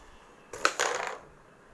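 A carrom striker smacks into the coins on a carrom board in one short, fairly close clack and clatter that dies away within about half a second.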